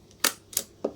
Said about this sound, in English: Push the shutter button, and that's clicked.